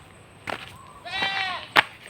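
A goat bleats close by in two quavering calls, a short one followed by a longer wavering bleat, with a sharp crack or snap at the end.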